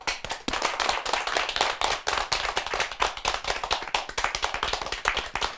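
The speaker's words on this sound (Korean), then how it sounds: "큰 박수 부탁드립니다." An audience at a Catholic talk program claps loudly to welcome a nun as she comes up to speak. The claps are dense and crisp, come in rapid uneven bursts, and continue without any talk.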